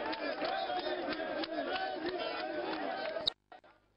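A lively, jubilant crowd greets the president of the Republic with dense, continuous cheering and chatter. A few sharper shouts rise over the din before it cuts off abruptly near the end, leaving brief faint noise.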